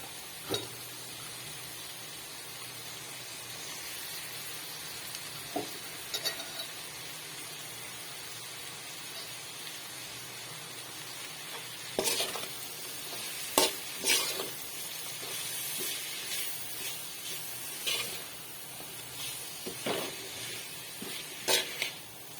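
Dried anchovies stir-fried with onion and tomato in a pan, a long steady sizzle under occasional sharp clinks and scrapes of a spatula, growing busier toward the end, close and fairly quiet with no talking.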